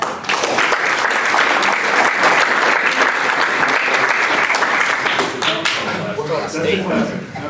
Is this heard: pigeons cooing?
no